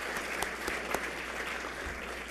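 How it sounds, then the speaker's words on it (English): An audience at a school district address applauds, a soft, even wash of clapping heard from a distance with a few sharper claps standing out. "If you can please give Mr. Darrell Hurley another round of applause"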